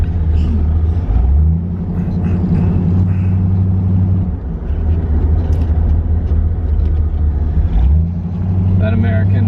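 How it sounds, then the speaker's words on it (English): An American V8 car engine rumbles steadily from inside the cabin of an Apollo, a deep continuous drone that dips and swells as the revs shift. A voice talks over it. "That American V8 sound is totally appropriate in the Apollos."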